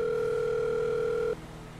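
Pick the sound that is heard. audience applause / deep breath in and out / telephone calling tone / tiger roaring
telephone calling tone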